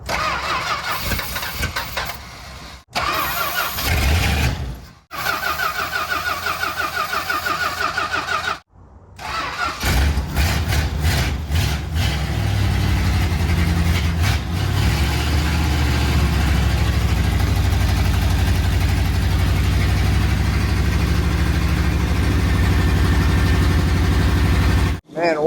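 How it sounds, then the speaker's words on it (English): A 1964 Chrysler engine that had sat for 25 years cranks in several short bursts, catches, then settles into a loud, steady idle, with people talking over it. "Man, what a sweet running motor."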